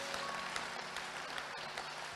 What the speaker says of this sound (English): This clapping is suspect on the left hand side